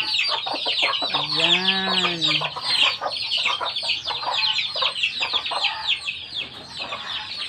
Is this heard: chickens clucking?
yes